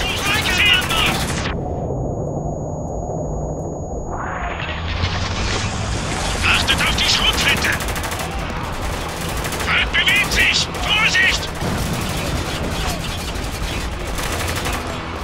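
Heavy automatic gunfire and explosive blasts in the shooter game Spec Ops: The Line, a loud dense barrage with a muffled, ringing dip near the start before the firing swells back up, with combat voices mixed in.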